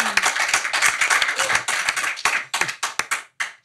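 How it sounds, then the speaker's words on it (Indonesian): An audience claps for a two-brother band on a talk show, a brisk burst of hand claps that thins out into scattered individual claps before stopping. "Tepuk tangan buat"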